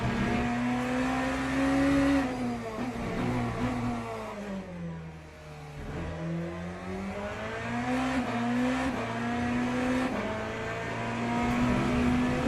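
BMW race car engine screaming at high speed in Le Mans Ultimate, a steady loud drone whose pitch rises and falls through gear shifts and corners, dipping briefly mid-clip before climbing again.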